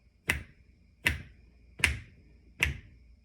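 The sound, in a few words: clapping a rhythm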